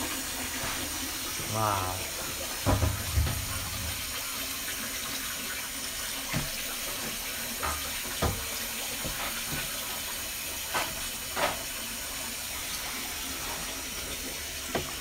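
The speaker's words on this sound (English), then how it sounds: "And now we're cleaning the pot or nabe." A tap runs steadily as a tofu-making pot (nabe) is rinsed and cleaned in a sink, with clinks and knocks of the pot breaking through the flow and a brief voice near the start.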